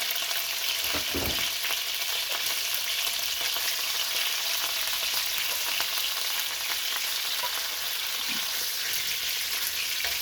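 Chicken wings fry in a pan with a constant, bright, crackling sizzle, close and even throughout, with an occasional faint scrape of stirring.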